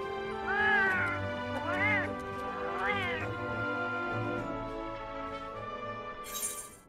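A cat in the video game Final Fantasy XIV meows three times in quick succession, each cry rising and falling, over a steady bed of sustained game music tones.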